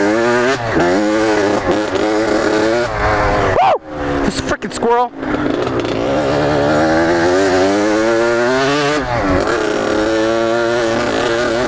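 A Honda CR125 two-stroke dirt bike engine revs up and down repeatedly, loud and close with rising and falling pitch, briefly cutting out midway before revving again.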